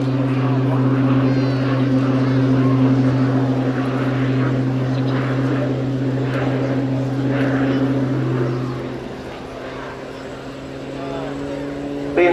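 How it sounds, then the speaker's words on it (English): An RAF Tucano T1 turboprop trainer flying a display at an air show, its propeller drone loud and steady throughout, the pitch shifting as it manoeuvres, with a commentator talking over it. "Liam now pulling up and putting the aircraft on a knife edge before feeding in some top runner to keep the aircraft pointing"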